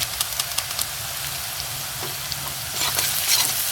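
Fried vegetables mixed with Maggi masala for vegetable chowmein are stirred in a hot pan, with crackling sizzle and a few spoon knocks up close that swell louder toward the end.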